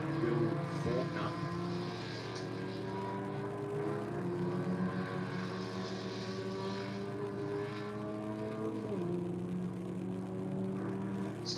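A race car at a festival of speed at Winton, heard at a distance driving down the back straight, a steady engine drone with shifting pitch that dips and climbs again near the end.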